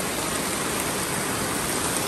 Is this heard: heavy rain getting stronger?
yes